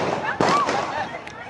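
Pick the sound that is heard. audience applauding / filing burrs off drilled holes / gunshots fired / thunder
gunshots fired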